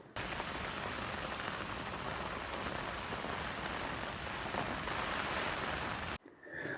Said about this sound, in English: it started blowing a hoolie and tipping down with rain